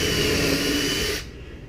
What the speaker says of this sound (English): Just a matter of drilling a couple holes.